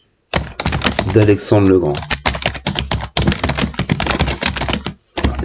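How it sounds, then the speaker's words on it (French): Fast, close clatter of computer keyboard typing runs steadily in bursts, with a person speaking French over part of it. "Excusez-moi, je tape mal."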